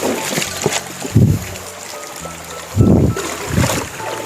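Shallow stream water is splashed and churned in a few strong bursts as a hand net is pushed along a fast-flowing river bed to catch fish, over a steady rushing current.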